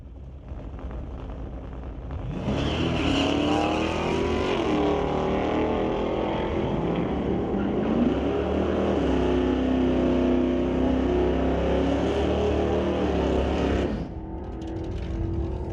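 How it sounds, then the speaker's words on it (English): Chevrolet Nova and Chevelle launching side by side in a sportsman drag racing qualifier: a loud roar erupts, engines climb in pitch through gear changes for about twelve seconds, then cut back to crowd ambience. "Nova versus Zapstrap Racing Chevelle for the second qualifier."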